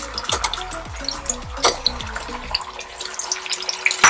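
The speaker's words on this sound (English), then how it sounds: "I'm going to add my Szechuan sauce which I made earlier as well. I'm going to pour it all in there." Homemade Szechuan sauce poured into a hot pan with ginger and garlic, a close wet splashing pour with sizzling bursts and scraping, no talk.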